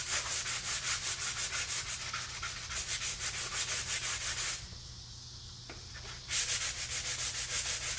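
Sandpaper rubs rapidly back and forth over wooden pieces spinning on a homemade lathe, a loud, rhythmic rasping that briefly pauses before resuming.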